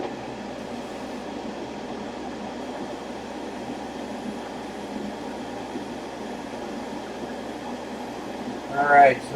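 A paint booth extractor fan runs as a steady, even broadband whoosh throughout, with a brief louder swell near the end.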